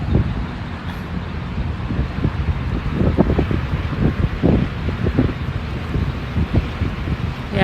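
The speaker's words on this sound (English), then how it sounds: "the wind is the only downside of this snowstorm" Wind gusts through a New York snowstorm, a continuous rough, blustery rumble buffeting the microphone at close range and swelling and easing throughout.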